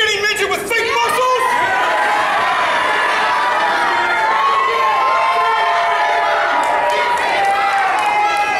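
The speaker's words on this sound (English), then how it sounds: "This crowd is loud." A loud wrestling crowd at a live pro wrestling show cheers and shouts continuously, a dense, sustained roar of many voices with rising chants and whistles throughout.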